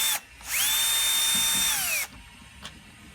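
A power drill whirs steadily for about a second and a half while removing the screw that holds the inner door handle holder on a Proton Persona car door, loud and close, with a short click afterward.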